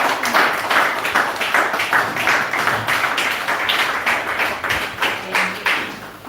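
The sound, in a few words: audience clapping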